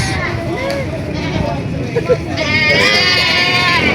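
Goats bleat at a livestock market in Balayan, Batangas, a few short cries rising over close conversation and background crowd noise.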